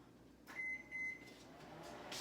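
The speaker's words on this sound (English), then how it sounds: "I'm going to put my water in the microwave" Two short electronic beeps from a microwave oven heating water, followed by the low hum of it starting to run; quiet and close.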